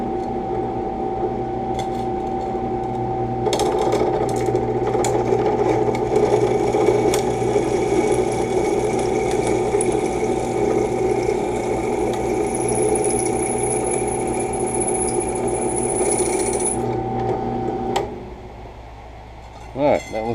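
A knife sharpening system grinds a hardened saw-blade steel edge in a shop, a loud continuous mechanical whine with a steady tonal hum that runs for about eighteen seconds before winding down, followed by a few clanks.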